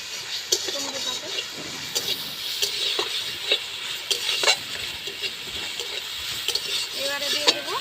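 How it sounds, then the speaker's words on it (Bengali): Chopped tomato dropped onto fried onion in a pan sizzles lightly while a spoon stirs and scrapes, giving repeated clinks and a steady soft hiss close by. "এবারে দিয়ে দেব টমেটো কুচি, হালকা ফ্রাই করব, বেশি ফ্রাই করব না টমেটোটাকে।"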